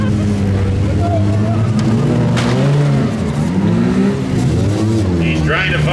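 A demolition derby car's engine revs hard and rises and falls as the driver hunts for gears, loud and close amid the crowd noise of a mini smash heat in Beeton, Ontario, with a commentator talking over it.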